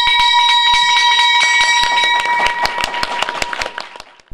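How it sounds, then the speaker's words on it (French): A bell rings in a rapid series of sharp, bright strikes at a market opening ceremony, its ringing tones layered and sustained, loud and close, fading out at the end. "je vais vous inviter à faire sonner la cloche"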